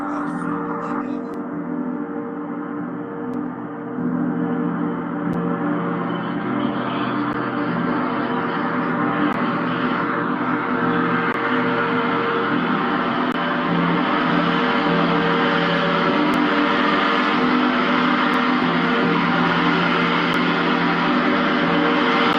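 A large gong played loudly swells into a dense, sustained shimmering roar that fills the room for over twenty seconds, rich and washing with no talk.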